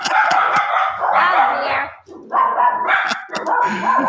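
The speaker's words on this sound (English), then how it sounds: "Is that your puppy?" A puppy barks repeatedly in loud, close yips and bow-wows, heard during a podcast interview conversation, with someone briefly speaking over the barking.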